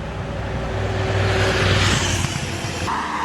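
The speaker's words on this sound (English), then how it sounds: "Bonus, a loud bike." A loud motorbike passes along a road, its engine roar swelling steadily to a peak near the middle and then easing off as it moves away, alone without any talking.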